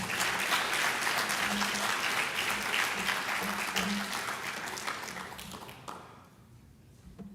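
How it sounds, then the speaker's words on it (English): A high school scholarship assembly audience applauds loudly with dense, sustained clapping that gradually thins and fades out toward the end. "So give yourselves a round of applause."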